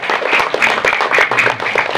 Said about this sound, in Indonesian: Tepuk tangan buat panitia yang selalu sigap.